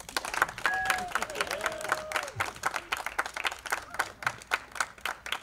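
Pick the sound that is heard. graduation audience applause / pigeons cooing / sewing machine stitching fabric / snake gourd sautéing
graduation audience applause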